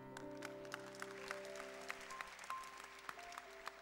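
Faint applause from a church congregation at a Bethany Nginden service, scattered claps over a steady sustained musical tone.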